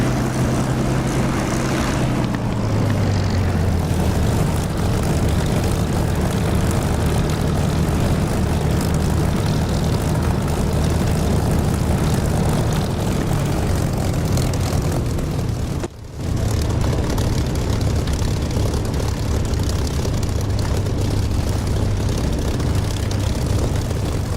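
A Spitfire's propeller engine roars loud and constant through a takeoff in the DCS flight simulator, with a momentary dip in the drone midway.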